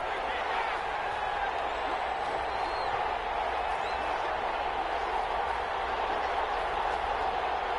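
Steady crowd roar from a football video game on PS4, building ahead of a big third-down play, a dense continuous wash of cheering with no individual voices standing out.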